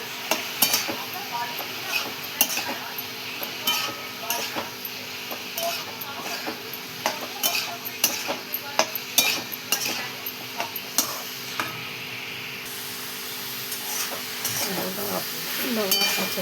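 Green tomato chutney with turmeric and red chilli powder being stirred in a pan, repeated scraping and clinking strokes over a soft steady sizzle.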